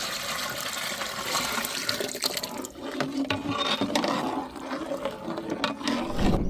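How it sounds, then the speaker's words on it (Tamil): Lentil water poured into a pot of tempered rasam, a continuous splashing, gurgling liquid stream heard up close and alone for several seconds. "அதில் பருப்பு தண்ணி ஊற்றிக்கிறேன்"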